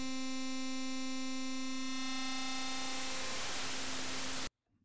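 Digital FM synthesizer tone with its feedback turned up, a steady harmonic drone that gradually smears into dense, hissing white noise before cutting off abruptly.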